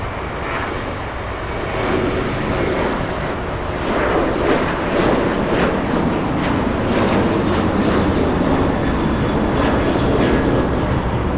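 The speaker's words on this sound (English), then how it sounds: "Alaska flying to Mazatlan in Mexico, Alaska Airlines 144. That's a 737-900." An Alaska Airlines Boeing 737-900 jet passes at Los Angeles International Airport, a loud continuous engine roar that builds slightly and sustains throughout, with no voices.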